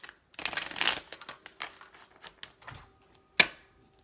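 Tarot cards are shuffled in quick riffling bursts, close and crisp, followed by a short pause and a sharp tap as the deck is squared.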